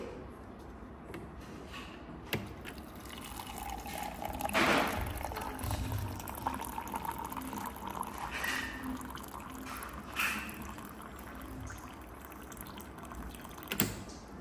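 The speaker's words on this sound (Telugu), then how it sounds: "నేనైతే దీంట్లో నుంచి హాట్ వాటర్ అయితే తీసుకుంటున్నాను" Hot water runs from a dispenser machine that mixes hot and cold water, a steady close pour lasting most of the time with a few brief louder splashes and knocks.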